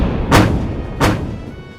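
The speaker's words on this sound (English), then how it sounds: "Charles ordered the firing of a pre-arranged signal of 4 cannon shots." Two cannon shots fired as a prearranged signal in the 1700 siege of Narva, heard as separate booming blasts roughly two-thirds of a second apart, each loud and sharp, decaying quickly.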